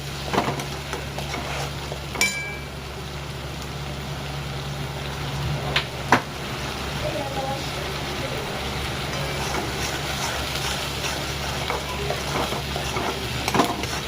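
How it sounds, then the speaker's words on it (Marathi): Onions browning in hot oil while being stirred, giving a steady dense sizzle with occasional scraping clicks of a spoon against the pan, close and continuous with no talk. "कांदा चांगला खरपूस भाजून घ्या"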